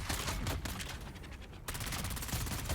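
Rapid machine-gun bursts from an enemy gunner in the video game Dune Awakening, dense overlapping gunfire that runs almost continuously, loud and close, with a brief dip in intensity midway.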